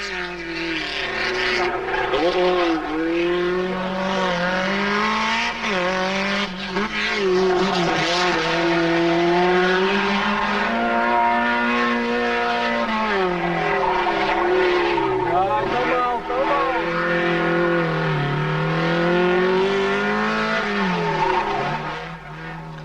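Small rear-engined Alpine rally cars from the 1973 Rally de Portugal driving on bumpy mountain roads. Engines rev loudly and continuously, rising and falling as the cars pass, with occasional tyre scrabble throughout.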